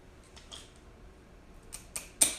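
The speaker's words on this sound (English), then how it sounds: "we're going to cut this cable right here" A bike brake cable is cut with a cable cutter while a BMX gyro brake setup is fitted: a few soft handling sounds come first, then three sharp, close snips that grow louder toward the end, with no talk.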